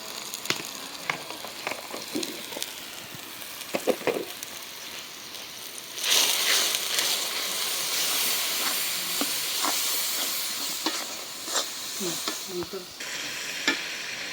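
Turmeric, chili, coriander and cumin powders fry in a pan, giving a constant sizzling hiss, with scraping stir strokes before a louder burst of frying that carries on with intermittent stirring.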